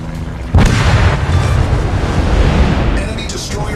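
Heavy naval gunfire from warships in World of Warships, a dense booming roar that erupts after a brief quieter moment and holds loud and continuous, with a synthetic voice calling out over it.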